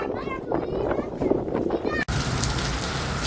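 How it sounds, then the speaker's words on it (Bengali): Steady rain patters and hisses on a rooftop, with people talking faintly over it for the first part. "এই যে ফাইনালি ছাদের বৃষ্টি দেখা হয়ে গেল"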